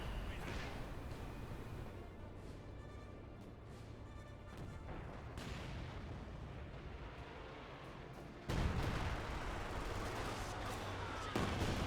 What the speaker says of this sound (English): Katyusha barrage